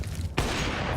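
A wall-bang gunshot in Counter-Strike during a Vitality vs Astralis BLAST Premier match: a single sharp, loud crack strikes suddenly partway through, followed by sustained gunfire noise and crowd-like din.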